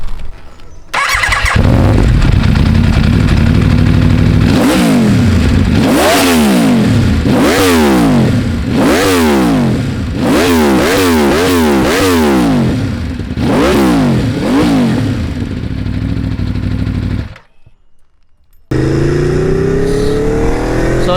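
A 2016 Aprilia RS V4 superbike with a remapped ECU roars loudly and close, revving hard through repeated rising and falling throttle blips as it rides, then cuts out briefly before the engine noise returns.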